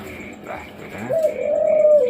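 A puter pelung turtle dove gives a steady, close cooing call, a drawn-out tone that swells and holds near the end, with faint background noise.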